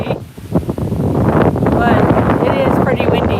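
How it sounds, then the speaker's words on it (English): Strong gusts buffet an outdoor microphone at Presque Isle State Park ahead of a coming storm, a loud rough rumbling roar that builds after the first second, with a voice briefly heard beneath it. "And I'm sorry if it's totally windy"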